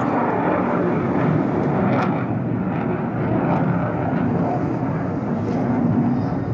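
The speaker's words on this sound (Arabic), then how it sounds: "هذه إحدى الغارات التي نفذت الآن على طول الشريط الحدودي في هذه اللحظات جنوب مدينة رفح" An Egyptian warplane carrying out an airstrike along the border strip south of Rafah gives a loud, steady roar of jet noise, broad and rumbling throughout with no voices.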